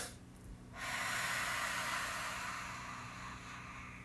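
A person takes a deep inhale through the nose, followed by a short extra sip of air at the top, as in a physiological sigh breathing exercise. The airy rush is steady and close against a quiet background.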